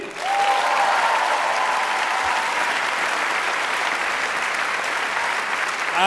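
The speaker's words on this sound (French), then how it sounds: "Première scène, on applaudit." A comedy festival audience at Montreux bursts into sustained applause, dense and loud, holding steady for several seconds with a faint voice briefly over the start.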